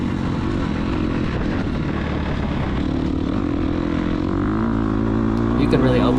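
An off-road motorcycle revs and accelerates on a trail, its engine drone holding steady before climbing in pitch near the end, with a rider's voice talking over the noise.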